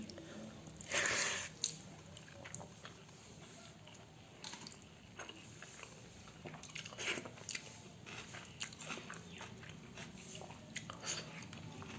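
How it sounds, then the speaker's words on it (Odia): Someone eats pakhala, a fermented rice-water dish, with potato mash, chips and fried okra, making close, quiet chewing and biting sounds with one louder slurping bite early on and soft wet squishes afterward. "ଆଉ ବର୍ତ୍ତମାନ ମୁଁ ୟାକୁ ଖାଇବି ଆଉ କହିବି କେମିତି ହେଇଛି"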